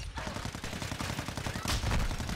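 Sniper rifle fire in Call of Duty MW2, rapid gunfire crackling densely through the whole moment, loud and close with no talk.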